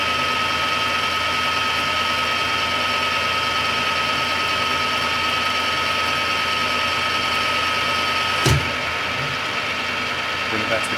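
A metal lathe running under auto feed while a cutter takes a cut, a steady, even machine hum and whine throughout, broken by a single sharp clack near the end.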